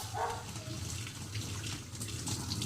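Tap water runs over hands and arms during a surgical hand scrub, a continuous close splashing rinse with some faint background voices.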